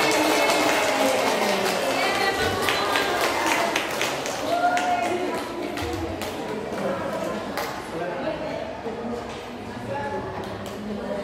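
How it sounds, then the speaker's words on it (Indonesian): Audience applause of many hands clapping at an indoor teachers' gathering, steady and close at first then thinning out, with a voice speaking over it. "mari kita berikan aplaus yang"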